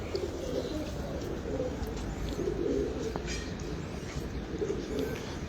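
Pigeons at a breeder's loft cooing in soft, repeated throaty bursts at close range, over a steady low background rumble.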